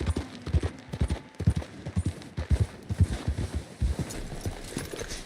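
Horse hooves clip-clop at a steady gallop in the open-world Western game Red Dead Redemption 2, a loud, rhythmic run of thuds close up, with no voices over it.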